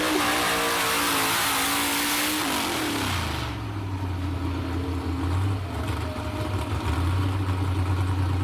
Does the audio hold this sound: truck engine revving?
yes